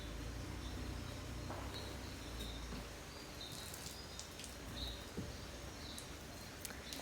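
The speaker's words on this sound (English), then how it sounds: "I love listening to the water and the birds and the bugs chirping" Birds and insects chirp faintly in the outdoor night air in Central America, scattered high calls over a low, steady background hum with no voices.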